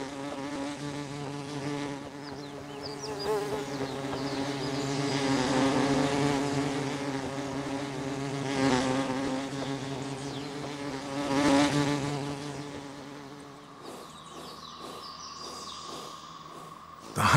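Bees and wasps hover around a prickly flowering patch, their buzzing rising and falling as they move near and away before the sound shifts abruptly near the end.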